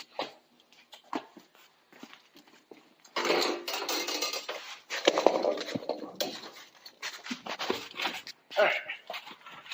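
A new oil pan for a 1968 Ford F250 is handled, with clanking metal rattles and scrapes in bursts, close by, mixed with short handling noises and quiet pauses.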